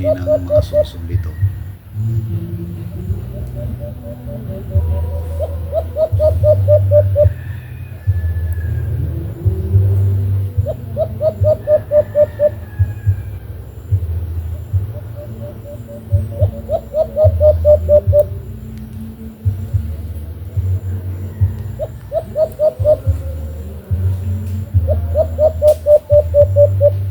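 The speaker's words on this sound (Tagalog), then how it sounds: "Kaya pakinggan natin yung huni ng mga sunsun dito." Repeated rapid trilling calls of sunsun owls answer one another in bursts during a hunt, over a low engine rumble, with a person speaking between calls.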